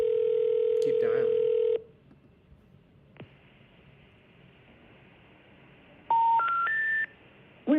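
An auto-dialer for real-estate cold calls plays a steady dial tone, then after a quiet gap a quick series of rising touch-tone beeps, clear and close.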